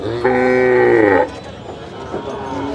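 A loud moo from a black bull at a livestock market in Kalirbazar, Trishal, one long drawn-out bellow in the foreground, followed by crowd noise and bargaining chatter.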